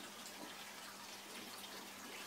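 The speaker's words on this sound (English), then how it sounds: "You can see the water runs from there to this tank and through this pipe to this tank." Water flowing through pipes between indoor aquaponic fish tanks, a steady faint trickling wash that runs continuously without pause.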